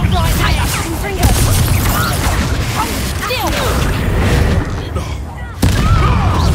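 Explosive Bombarda and Confringo spells in the video game Hogwarts Legacy crack and boom amid clattering combat mechanisms, loud and dense, with voices shouting over them.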